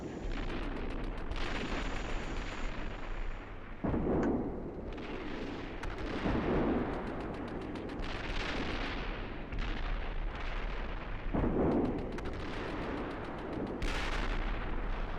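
Enemy artillery firing a smoke mission in a combat video game: repeated heavy booms and rolling rumbles follow one another across the whole stretch, loud and sustained, with no voices.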